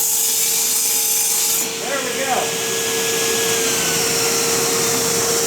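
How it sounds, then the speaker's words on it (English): A table saw rips through wood while a vacuum cleaner beneath it roars steadily, with a brief cutting rasp partway through and someone speaking over the constant drone. "Now we're just going to turn the saw on, which will turn on the vacuum cleaner underneath."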